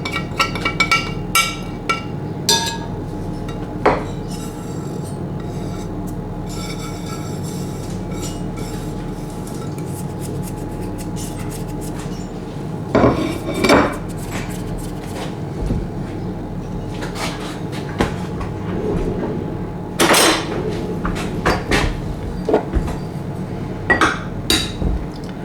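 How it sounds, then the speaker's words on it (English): Carrot cake ingredients, carrots, salt, walnuts, cinnamon, baking soda and baking powder, are tipped into a dish with clinks and knocks of dishes and utensils spread through a steady kitchen background, close and moderately loud, with no talk. "So the carrots, the salt, the walnuts, the cinnamon, the baking soda and the baking powder all go into your dish like that."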